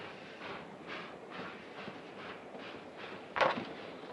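Train interior while travelling, with a steady rumble and faint rhythmic clatter of the carriage running on the rails, and a brief louder knock or clunk near the end.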